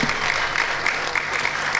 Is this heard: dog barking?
no